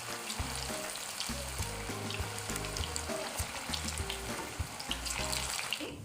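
Veg manchurian balls deep-frying in oil over a medium flame give a steady, dense hiss and bubbling, with music playing underneath throughout.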